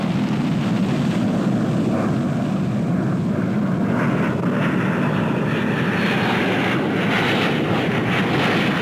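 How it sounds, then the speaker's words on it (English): Blue Angels F-4J Phantom jet accelerating on takeoff, a loud, steady, broad engine roar that holds throughout, with a slight shift in tone as the jet passes. "accelerates his aircraft at 280 miles per hour, performing the very, very graceful Immelman on takeoff"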